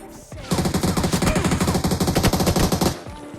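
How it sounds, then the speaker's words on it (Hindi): A long rapid burst of automatic gunfire in the BGMI PUBG Mobile video game, dense evenly spaced shots for about two and a half seconds, loud and close, with no talk. "कासल पे से किसी ने मेरे ऊपर गोली चलाई"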